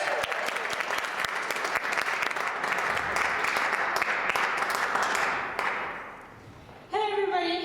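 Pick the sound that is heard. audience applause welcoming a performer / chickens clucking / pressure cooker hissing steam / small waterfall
audience applause welcoming a performer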